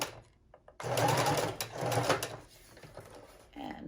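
Sewing machine running fast on its widest stitch, a dense mechanical whir in bursts with brief pauses, close and fairly quiet.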